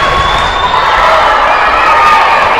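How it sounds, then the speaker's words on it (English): Loud crowd cheering and shouting fills a gym during a girls tournament basketball championship game, a dense, sustained roar of many voices. "All right, the crowd's definitely into it."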